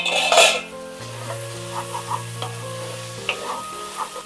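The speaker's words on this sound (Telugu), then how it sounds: "ఇప్పుడు వీటిని ఒక 2 నిమిషాలు ఆయిల్లో మగ్గనిద్దామండి మనం" Ridge gourd pieces fry in oil as a utensil stirs them, a close steady sizzle with a loud scrape at the start and several lighter metallic clinks and scrapes against the pan, no voices.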